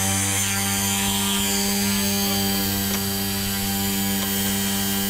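An RC helicopter on a test flight after repair produces a loud, steady high-pitched whine from motor and rotors, continuous and close throughout with strong tonal hum and no talking.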